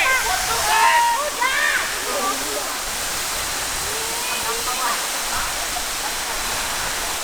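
A jungle waterfall in Sumatra, Indonesia crashes into a pool below, a steady broad roar of falling water that stays loud and continuous throughout, with some sloshing near the start.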